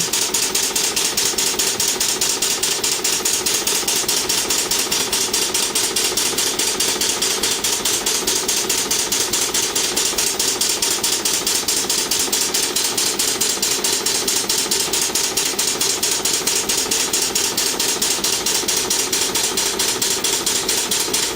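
A large Bischoff steam engine runs with a steady, rapid mechanical chugging without pause, a dense rhythmic engine beat with a bright hissing overlay, close and constant throughout.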